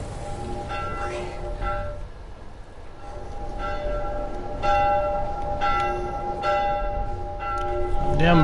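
Bell tolls ring out in The Last of Us, a series of resonant metallic strikes roughly once a second with long sustained tones, loud and close over a rumbling game ambience.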